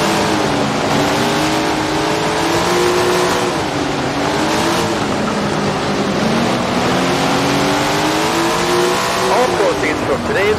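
410 sprint cars racing at Grant Park in the video game Tony Stewart's Sprint Car Racing, a loud continuous engine roar with wavering pitch as the cars throttle up and back off through the laps.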